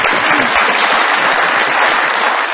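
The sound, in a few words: studio audience applause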